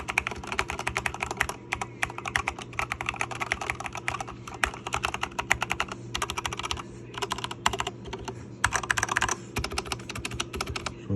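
Steady, fast clacking of keys on a tape-modded mechanical keyboard, close and continuous with brief pauses between bursts of typing.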